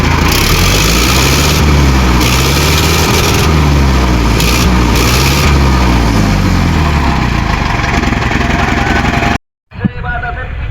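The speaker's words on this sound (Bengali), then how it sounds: "গাড়ি স্টার্ট সাউন্ড শুনতে পাইতেছেন, ফুল ইঞ্জিনের কাজ করানো।" Sonalika Allrounder 55 tractor, a 2017 model, runs with its engine idling in a steady, loud low rumble that goes on for about nine seconds, then cuts out abruptly, leaving a brief quiet with a small knock.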